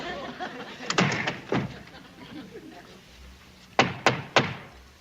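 Fist blows land on a wooden hatch-style door of a military base duty hut: two close, solid thuds, a pause, then three quicker knocks, loud and near over low background voices.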